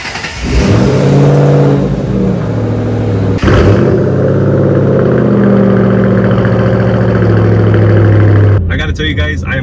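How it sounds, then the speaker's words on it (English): A 2011–2014 Ford Mustang engine cold-starting, surging into a loud high-revving roar that settles into a steady, rumbling fast idle, close and continuous throughout. "let's get this cold start"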